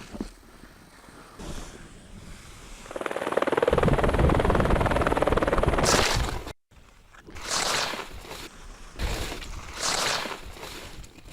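Helicopter carrying heli-skiers in the Alps, its rotor and turbine roar swelling loud and close for a few seconds, cutting out briefly, then returning in pulsing bursts as it passes.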